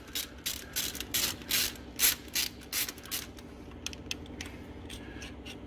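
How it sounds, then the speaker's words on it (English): A 3/8-inch ratchet with extension and 9/16 socket works a fuel injector hold-down bolt loose, giving rapid bursts of close, crisp pawl clicks in repeated strokes that thin into lighter, sparser ticks. "We loosen the hold down bolt and remove the injector hold down crab."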